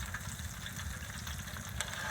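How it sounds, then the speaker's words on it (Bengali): Egg frying in a pan in hot weather, a steady dense sizzle and crackle filling the background at moderate level, continuous throughout with no speech over it. "প্লাস এই যে ডিম ভাজা আপনাদেরকে দেখাচ্ছি"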